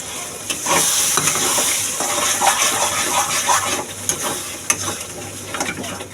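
Sour yogurt hits frying spices in a pan for potato dum and sizzles loudly and steadily up close, with stirring and scraping scattered through the hiss.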